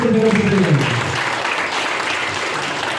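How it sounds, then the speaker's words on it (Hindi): Loud audience applause at a company business meeting: a dense, even wash of clapping runs the whole time, with a voice audible over it at the start. "एक बार जोरदार ताली"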